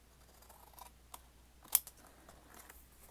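Scissors cutting a paper envelope, with a few quiet snips and one sharp, crisp cut standing out in the middle, close and isolated in a quiet room.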